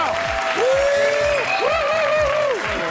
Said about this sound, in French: Allez, un dernier applaudissement pour les tenants du titre, les Invincibles. Allez, plus fort.